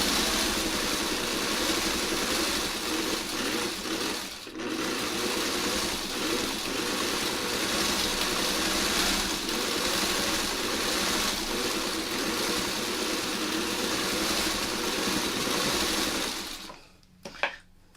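An engine idles steadily after a bit more gas, a continuous even mechanical whir running loud and unbroken, then cutting off abruptly near the end with a brief clunk.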